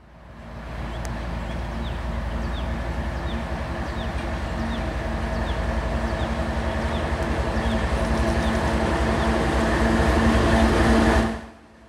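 A long, steady rumble of a passing FEC freight train near Bowden Yard, with continuous rolling and clattering that holds for most of the clip and stops abruptly at the end.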